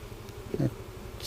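Honeybees at an opened backyard hive give a low, steady droning hum, fairly close, with a brief soft voice-like sound in the middle.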